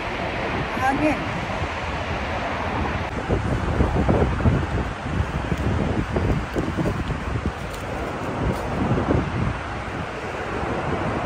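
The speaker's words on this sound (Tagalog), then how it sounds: "Hangin." Strong wind buffets the microphone outdoors in the UAE, producing a steady, loud rushing rumble with gusty surges throughout.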